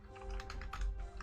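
Quick, light clicks of a computer keyboard while coding a Minecraft datapack patter in a steady burst, close and fairly quiet over a low background hum.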